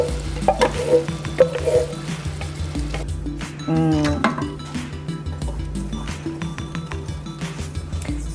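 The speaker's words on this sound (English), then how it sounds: "So now we're gonna add our can of crushed tomatoes." Crushed tomatoes from a can plop into a hot bolognese pot, starting with close sizzling and clinks of metal against the pot, then a brief wet gush and steady simmering hiss.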